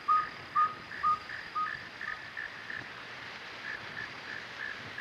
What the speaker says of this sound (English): In summer, this owl's peculiar call may be heard chiefly in northern pine forests